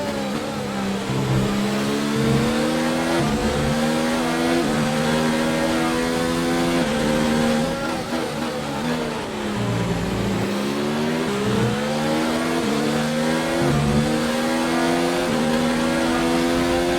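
A Mercedes AMG Formula 1 car races at the Canadian Grand Prix in F1 2019, its high-revving engine screaming continuously through repeated upshifts and downshifts, loud and close throughout.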